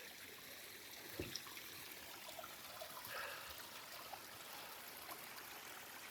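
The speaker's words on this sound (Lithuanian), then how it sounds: "Dar vienas upeliukas." A small mountain stream flows in the Swiss countryside, a faint, steady trickle and babble of water heard alone, with a few soft splashes.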